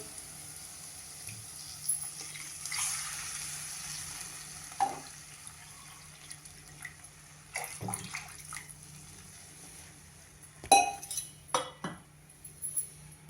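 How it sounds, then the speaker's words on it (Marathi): Two cups of water are poured into a kitchen pot to make rice flour dough. The faint, trickling pour comes with scattered metallic clinks and knocks of utensils, quiet and close, with no talking. "आता आपल्या दोन कप तांदुळाचं पीठ आहे म्हणून आपण इथे दोन कप पाणी घालणार आहोत"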